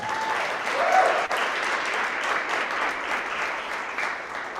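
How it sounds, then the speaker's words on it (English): Audience applause fills a school award assembly for sixth to eighth graders, a steady sustained clapping from a large crowd that holds evenly throughout with no talk over it. "Nice big round of applause."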